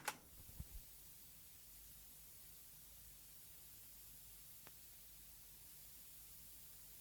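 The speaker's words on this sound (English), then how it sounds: "Interesting use of that hiss, staticky kind of stuff going on." Quiet, steady hiss of static runs throughout, broken by a few soft clicks and pops at the start and one faint tick later.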